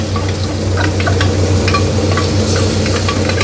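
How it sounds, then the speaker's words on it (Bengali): Spices, ginger and cumin paste, tomato and brinjal fry together in a kadai, giving a loud, dense, unbroken sizzle up close with faint stirring clicks and no talking. "সমস্ত উপকরণ একসাথে আমি কড়াতে দিয়ে ভালো মতো এগুলোকে একটু ভেজে নেব"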